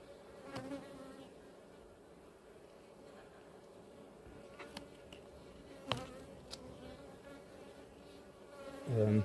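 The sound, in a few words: honey bees buzzing at an apiary hive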